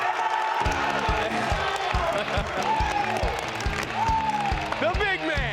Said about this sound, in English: In the final slot, let's give a huge round of applause for River Dorn.